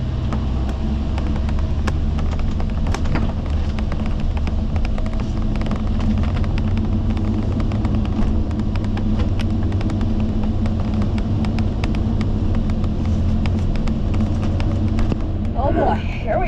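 An RV drives along the Elliott Highway in Alaska, with a constant loud engine and road rumble inside the cab, occasional rattles and bumps from the road surface, and a person talking over it.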